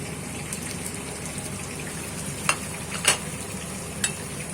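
Tomatoes going into a frying filling for karnıyarık, stuffed aubergine, and being stirred: a steady low sizzle with a few sharp scraping clinks from the spoon against the pan.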